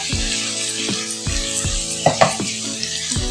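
Puffed rice with turmeric sizzles and fries steadily in a pan, with periodic stirring scrapes and a few sharper clinks of a utensil against the metal.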